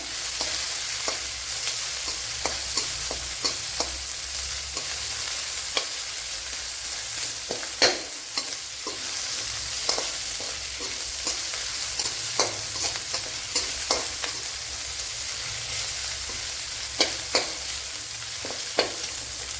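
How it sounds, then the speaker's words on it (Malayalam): Crushed shallots, garlic, ginger and green chillies fry in a pan for a Kerala-style egg thoran, a continuous close sizzle with frequent spoon-stirring clicks throughout and no voices. "ഒരു 10 കൊച്ചുള്ളി, 7 വെളുത്തുള്ളി, ചെറിയ പീസ് ഇഞ്ചി, ഒരു 3 പച്ചമുളക് ഇത്രയും ചതച്ച് എടുത്തിട്ടുണ്ട്. അത് ഇട്ട് കൊടുക്കുക."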